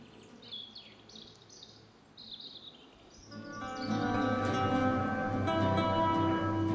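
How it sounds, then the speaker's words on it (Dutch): Faint birdsong chirps over a quiet forest hush in the Eifel, then a louder wash of insect-like buzzing and calls swells in halfway through. "We zijn helemaal alleen met de vogels en de wind."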